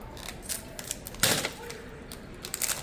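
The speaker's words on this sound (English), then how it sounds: "I'm just going to cut it off." Scissors snipping open a package, one crisp cut amid faint rustling and clicking, fairly close and quiet.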